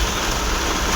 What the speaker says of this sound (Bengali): তোমরা দেখতে পাচ্ছ যে এতটা জোরে বৃষ্টি হচ্ছে,